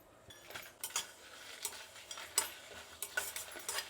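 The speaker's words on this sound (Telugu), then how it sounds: "కళాయి వేడెక్కిందండి, ఇప్పుడు వేయించుకుందాము. ఆయిల్ వేయాల్సిన అవసరం లేదండి, అలానే డ్రైగానే వేయించుకుంటాము." Whole spices dry-roasting without oil in a hot kadai, heard as repeated close scraping and clinking stirs over a faint sizzle, with no talk.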